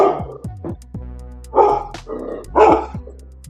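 A small dog barks in short, sharp yips right underneath a chair, several quick barks in a loud burst heard very close, with no talking.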